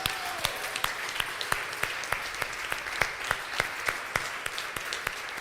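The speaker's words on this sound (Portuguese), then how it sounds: "Uma salva de palmas ao Senhor." Sparse applause from a small church congregation, individual claps standing out as sharp, fairly regular hits rather than a dense roar.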